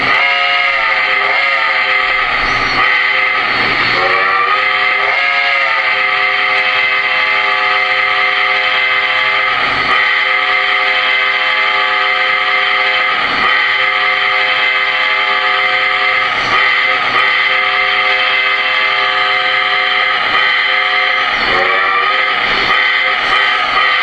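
A Lionel Vision Line 763E Hudson model steam locomotive whistle sounds in long, sustained harmonic tones, holding steady and loud with brief pauses between blasts.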